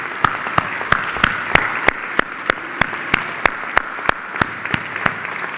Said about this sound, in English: let's give all of these men a round of applause